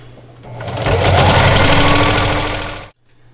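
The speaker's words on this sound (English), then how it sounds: "and just keep sewing." Sewing machine stitching a pie plate coozie, a steady, rapid whir of the needle running loud and close for about two seconds, then stopping abruptly.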